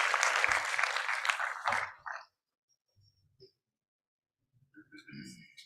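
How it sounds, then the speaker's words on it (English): An audience at an awards summit at an institute in Pune bursts into loud, dense applause that lasts about two seconds and then cuts off, followed by a few faint sounds and a voice starting to speak. "Can we have a huge round of applause"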